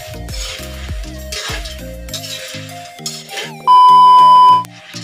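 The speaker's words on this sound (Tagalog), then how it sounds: "tuloy-tuloy pa rin ang pagluluto ni Mama ng mani niya" A mother stirs peanuts in a pan at home, with close clinks and scrapes of utensil on metal and a soft sizzle, while music with a sustained tone plays over the cooking.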